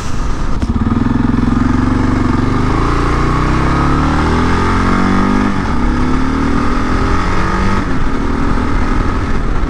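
A motorcycle fitted with new crash bars runs at speed on the road, a loud, continuous engine drone whose pitch rises and falls with throttle and gear changes, with wind rush throughout and no talking.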